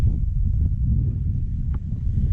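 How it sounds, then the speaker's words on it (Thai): Strong wind blows at a low-water canal during evening fishing, buffeting the microphone with a steady, loud low rumble and a few faint rustles and knocks, with no one talking. "แต่ ลม แรงแรงครับ เหยื่อนี่ปิวว่อนเลย"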